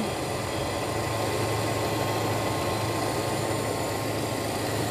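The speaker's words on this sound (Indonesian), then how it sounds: "Kita akan setel kembali untuk di bagian distributor atau delco, mencari suara yang halus dan ringan." Toyota Kijang engine idling after distributor tuning, a steady, even low rumble that holds throughout with no talking.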